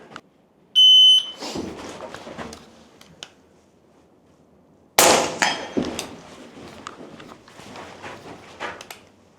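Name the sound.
shooting timer buzzer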